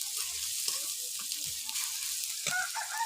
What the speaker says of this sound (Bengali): বন্ধুটা মশলাটা ভালো করে কষিয়ে নিতে হবে। টমেটোগুলো এইভাবে গেলে দিতে হবে।